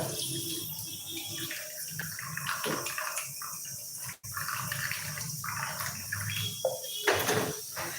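Steady rushing and splashing of greens cooking water being poured out of a clay pot, continuous and close, with a brief pause midway.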